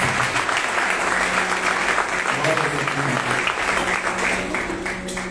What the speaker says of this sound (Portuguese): Dê uma linda salva de palmas para Jesus nessa noite.